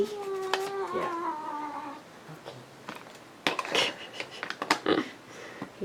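An unhappy cat lets out a long, falling meow up close at the start, followed by softer handling noises and a person speaking.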